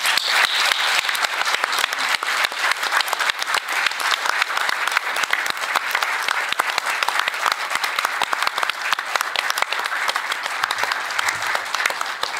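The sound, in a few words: applause in tribute to Enrique Florescano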